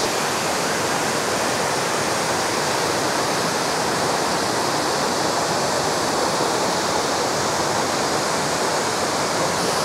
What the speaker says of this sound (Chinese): 这个角度确实不错，但是瀑布的水啊还是少了一些